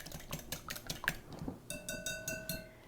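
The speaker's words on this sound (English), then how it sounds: "I'm just gonna whisk them together" Two eggs whisked together in a bowl for a quiche custard: quick, rhythmic metallic clicks of the whisk against the bowl, close and fairly soft, followed by a brief ringing tone, with no talking.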